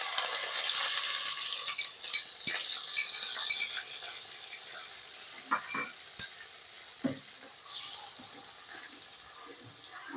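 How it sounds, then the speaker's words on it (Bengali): Shrimp paste hitting hot oil gives a loud burst of hissing sizzle at first, then settles into quieter frying with scattered scraping clicks of a spoon stirring through the pan, with no voices. "এবার আমরা এই তেলের ভিতরেই চিংড়ি মাছের যে পেস্টটা করে রেখেছিলাম ওই পেস্টটা দিয়ে দেবো"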